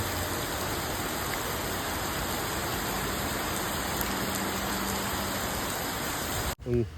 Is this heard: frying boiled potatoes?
no